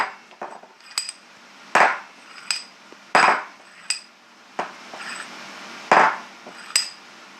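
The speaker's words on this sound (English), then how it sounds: "how much can you hit it before it snaps. This is just a small pinhead hammer." A small pinhead hammer strikes a piece of knife scale material clamped in a vise, landing about ten sharp metallic knocks at an uneven pace, loud and close with no talking.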